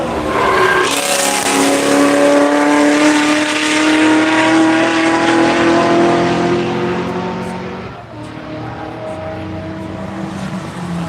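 A Chevrolet Camaro race car passes on a track, its engine note loud and rising as it nears, then fading slightly as it moves away.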